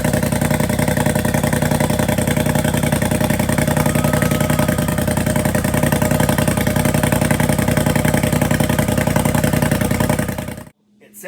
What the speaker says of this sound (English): let you hear how it sounds with the straight pipe side piece exhaust.